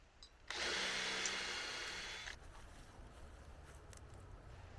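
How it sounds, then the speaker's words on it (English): A power drill whirs at high speed for about two seconds in one burst, drilling a hole in wood, then cuts off, leaving quiet room noise. "I'm going to drill a hole in all 6 of them"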